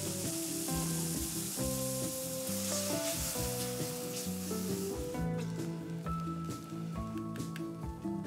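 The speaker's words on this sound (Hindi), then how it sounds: "अब टमाटर को भूनेंगे हम जब तक इसका पानी सूख जाए।" Tomato and red chili sizzling in a pan for soya keema, a steady frying hiss running under prominent background music that carries through the whole stretch.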